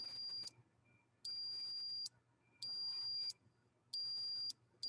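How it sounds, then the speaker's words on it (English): Switch being tested on an adapted toy, sounding as loud high-pitched electronic beeps in four evenly spaced bursts of about a second each, with quiet pauses between. "Oh, now that's beeping."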